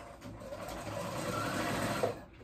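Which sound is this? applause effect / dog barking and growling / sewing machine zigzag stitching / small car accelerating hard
sewing machine zigzag stitching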